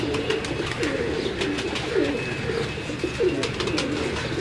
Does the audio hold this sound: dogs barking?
no